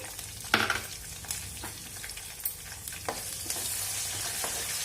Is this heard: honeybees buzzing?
no